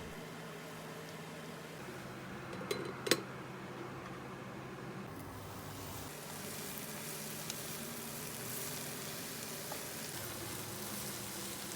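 Steady soft sizzling and simmering from a covered pot of eggplant filling on low heat, a low continuous hiss with a couple of brief clinks near the start.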